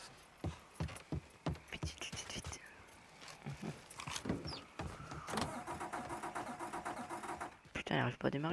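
A car engine in the video game Mafia III cranks and sputters without catching, a run of sharp starter bursts followed by a rough, sustained mechanical rattle, with voices talking over it.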